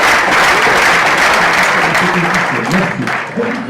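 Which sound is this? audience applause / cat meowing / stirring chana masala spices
audience applause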